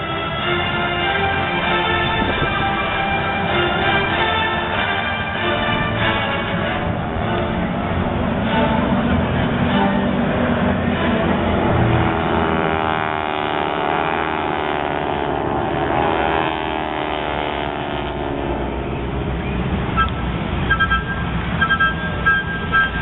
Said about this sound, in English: The Gecko flight will roll in the very high-angle strafing run.